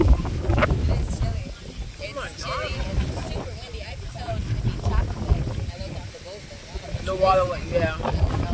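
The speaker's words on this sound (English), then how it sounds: "It's super windy." Gusty wind rumbles against the microphone while a person talks, with water and boat noise in the background.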